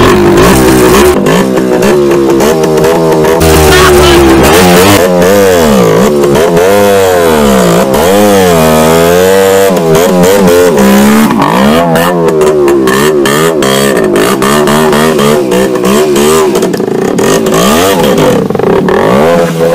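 A Voskhod motorcycle's two-stroke engine starts and revs hard off-road, loud and close, with rising and falling revving throughout and rough clattering bursts.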